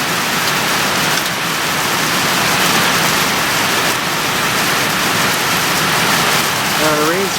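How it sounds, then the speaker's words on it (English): Heavy rain pours down steadily on a farmyard, a dense, loud hiss of drops hitting surfaces that stays constant from start to finish. "there's so much rain coming down"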